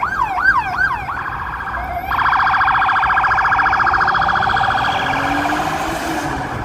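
A loud police siren wails close by on a Chicago street, sweeping up and down, then switches to a rapid yelping pattern as the vehicle passes.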